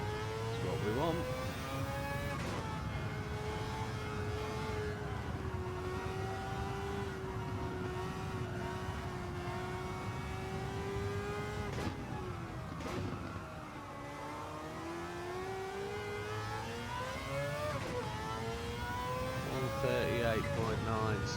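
A Mazda 787B race car roars steadily around Fuji Speedway in Gran Turismo 7, its high-pitched engine note holding near and loud, with a few brief drops and climbs in pitch as it shifts gears.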